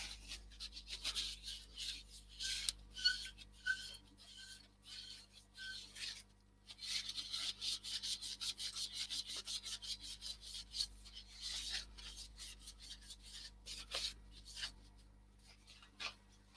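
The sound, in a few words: sanding a wooden crochet hook with grit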